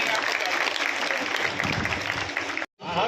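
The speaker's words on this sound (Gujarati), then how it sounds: "બેનો તાળીઓ પાડો બરાબર" A crowd claps steadily at a farewell ceremony for a city police station inspector, with flowers showered. The dense, continuous applause cuts out briefly near the end, then resumes.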